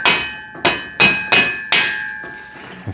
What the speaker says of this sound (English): Rubber mallet I was telling you about before.